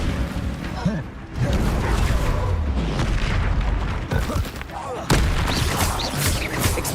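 Magic blast from the Confringo spell in Hogwarts Legacy, a series of booming bursts over continuous game noise, with a sharp loud hit near the end and someone talking throughout.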